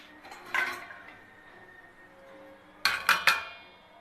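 A metal kadhai, a wok-style pan, being picked up and set down while cooking for matar paneer, with a single clank early on and then three sharp, close metallic knocks near the end; no talking.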